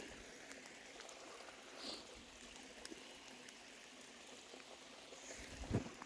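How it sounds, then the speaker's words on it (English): A river flowing, heard as a soft continuous wash of moving water with faint trickles and a few small splashes, low and steady, growing briefly louder near the end. "Standing here by what I would call, what ancient pagans would call a river."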